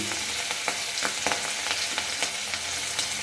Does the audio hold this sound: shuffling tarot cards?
no